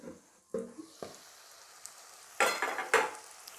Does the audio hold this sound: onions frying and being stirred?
yes